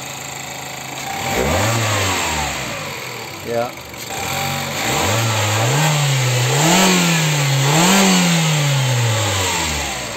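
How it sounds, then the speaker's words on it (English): Mazda MX-5 engine revved by pressing the gas: several rising and falling rev swells over a steady idle, close and loud, with a person speaking over it. "You heard the engine noise."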